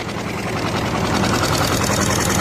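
A vehicle engine runs steadily close by as driving begins, a continuous throbbing drone with no talk over it.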